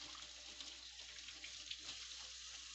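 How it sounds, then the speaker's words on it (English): A tap runs steadily while hands are washed with Dawn dish soap, a constant close hiss of falling water with faint splashing. "You're going to wash your hands."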